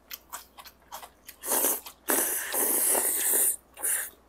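Crisp crunching bites into young radish kimchi, followed by steady close-up chewing, loud and wet, with a few quieter bites leading into longer bursts of mastication and no talking.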